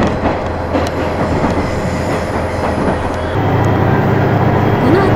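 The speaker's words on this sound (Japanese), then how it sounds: "遅いディーゼルなのに頑張ってます。" A slow diesel train labors along the Ban'etsu West Line in Japan. Its engine drones loudly and steadily close by, with a rhythmic rail clatter, and the rumble deepens partway through.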